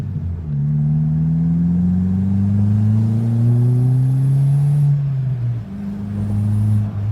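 An MK4 1.8T car with a custom cat-back exhaust idles with a deep, throaty rumble, rising and falling as it revs up, loud and close, with no talking.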